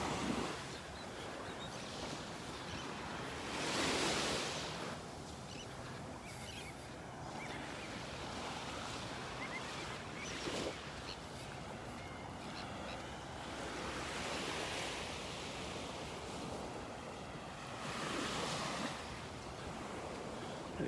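Ocean waves wash onto a beach in North Naples, Florida, a soft continuous surf with several gentle swells cresting and receding, light wind noise on the microphone and no talking.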